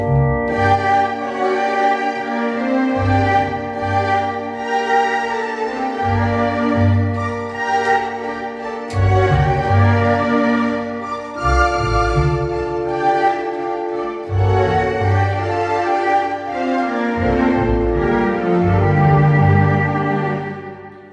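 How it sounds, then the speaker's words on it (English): An electronic keyboard plays a melody on its string voice, with viola- and cello-like tones and sustained bowed notes over a steady low accompaniment, loud and continuous with no talking. "I use the string instruments to play the same melody pieces"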